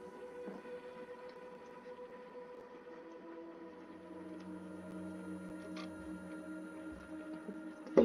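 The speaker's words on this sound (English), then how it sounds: "If y'all can hear that outside, that's my dad on the tractor." A tractor runs outside a house, a steady low engine drone with a sustained hum that grows somewhat louder partway through, heard from indoors at a distance with no talking.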